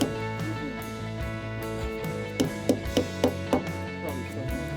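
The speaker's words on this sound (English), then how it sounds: "So when you hammer it in," A hammer taps a pin into a hole drilled in a bighorn sheep horn, a series of about six sharp, close knocks in quick succession over a low background hum.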